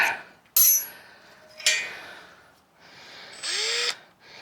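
A worn Makita power drill with worn-out bearings runs in several short bursts, each spinning up and winding down with a rising whine, close by and fairly loud with no voices.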